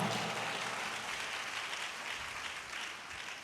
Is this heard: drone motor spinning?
no